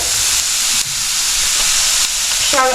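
Finely chopped shallots hiss and sizzle loudly as they sauté in hot oil with spluttered mustard seeds for a Kerala spinach curry, a steady close frying noise that runs unbroken.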